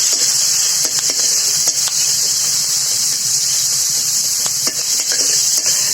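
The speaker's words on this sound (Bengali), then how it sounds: "খুন্তিতে সুন্দর করে ভেজে নিই" Onion and garlic frying with salt and turmeric, stirred with a metal spatula, for a taro-leaf dish: a loud, continuous close sizzle with scraping strokes and light clinks throughout, no voice.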